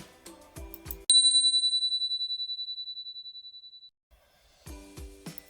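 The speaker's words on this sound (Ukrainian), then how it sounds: "Звісно, звук дзвоника" One bright ring of a small bell, like a bicycle bell, with a sharp strike and a clear tone decaying over about three seconds, alone between snippets of music.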